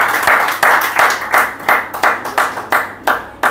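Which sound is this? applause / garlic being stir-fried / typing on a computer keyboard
applause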